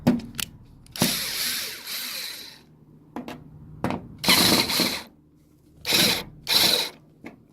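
A ratchet works bolts loose around the fuel cap area of a Toyota Tacoma, in several short bursts of rapid clicking separated by quiet pauses.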